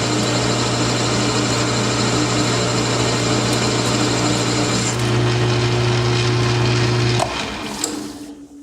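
A metal lathe takes a heavy cut with an A.R. Warner carbide insert, giving a steady loud grinding whine with a sustained tonal hum that runs unbroken for about seven seconds before the cut ends and the sound drops away.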